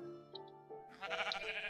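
Sheep bleating in Minecraft, a few short nasal bleats in a quiet game scene, close and clear, with a louder burst of bleats toward the end.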